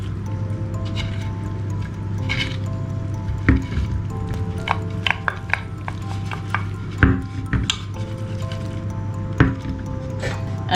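Onions and chicken being stirred in a pan for Kerala-style pepper chicken fry, with soft squishy scraping and wet sizzling under a steady hum and a few sharper clatters of the spoon against the pan.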